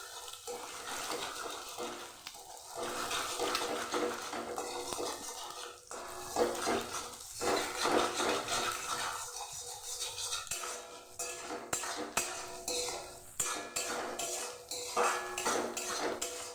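Egg frying in a pan with onions and green chillies, with a soft sizzle under repeated clinks and scrapes of a utensil against the pan, close and fairly quiet.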